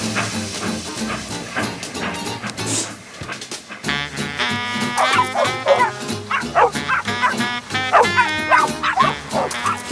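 Playful dog barks and yips ring out in quick, irregular bursts over a busy, music-like background, some close and loud, with a brief whimper among them.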